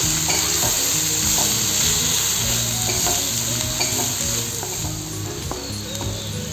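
Spices with chili powder sautéed in a pan for a pointed gourd dorma, a loud steady sizzle with repeated scraping and clicking stirs of a spatula, no voices.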